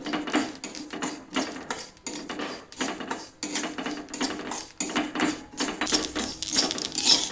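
Poppy seeds dry-roasting in a pan for a Maharashtrian kala masala, stirred continuously with a utensil that scrapes and clinks against the metal in a steady, busy rhythm, close and moderately loud with no talk.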